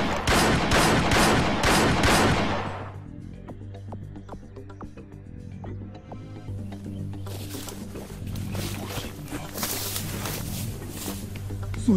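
Gunfire erupts in a shootout scene from a Nigerian movie, a loud burst of rapid, close shots at the start, then a quieter stretch of scattered cracks and noise, with the firing rising again toward the end.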